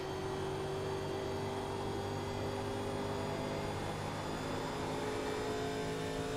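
Stock car engine in the iRacing sim at Atlanta, holding a steady droning roar with tonal whine as it runs down the long straight, constant and unbroken throughout.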